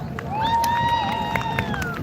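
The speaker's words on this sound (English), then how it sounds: "give them another round of applause" An outdoor protest crowd cheers and claps in a steady, loud wash, with a long rising shout or whistle-like tone riding over the noise for about two seconds.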